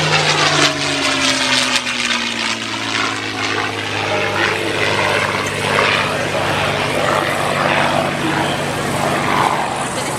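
A propeller-driven warbird flies over a 2021 Commemorative Air Force airshow, a loud steady engine drone with gliding pitch shifts as it passes, with someone talking over it throughout.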